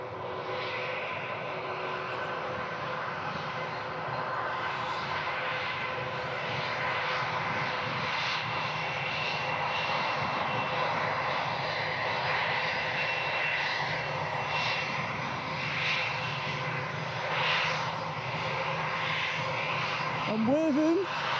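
A fixed-wing airliner taxis at Leeds Bradford Airport, its engines giving a steady, loud droning roar that holds for the whole stretch, with people talking nearby over it.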